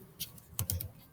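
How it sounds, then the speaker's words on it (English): Keys on a computer keyboard are typed while entering Python code for a list: a quick tap, then a short cluster of three or four close, crisp keystrokes against quiet room tone. "you're going to type"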